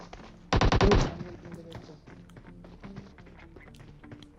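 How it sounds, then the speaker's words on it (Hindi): A short, loud burst of rapid gunfire from an MK rifle in the mobile battle-royale game PUBG Mobile, about half a second long, followed by quieter game sounds and faint talk. "मैंने एमके के 2 फायर कर दिए हैं"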